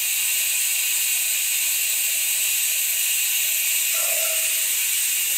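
A suction pump draws the last oil out of a McCulloch lawn tractor engine, giving a steady loud hiss and whir throughout, with a brief tonal gurgle near the end.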